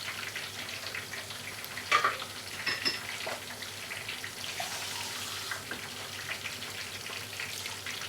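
Half a glass of water poured into frying tomato masala for boiled egg curry sets off a steady hissing sizzle, with a brief louder splash near the start and continuous close crackling throughout.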